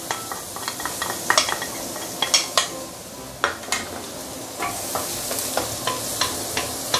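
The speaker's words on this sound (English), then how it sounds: "I'm putting in the shallot and garlic." Shallot and garlic frying in hot oil for egg fried rice, a steady close sizzle broken by frequent sharp clinks and scrapes of a spatula stirring in the pan, with no talking.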